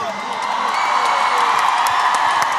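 Concert crowd cheering and whooping in a steady, dense roar that holds at an even level throughout, with scattered shouts on top.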